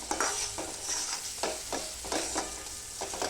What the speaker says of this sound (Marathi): याला टमाटरला पण चांगल्या तेलामध्ये चांगला फ्राय होऊ द्यायचं।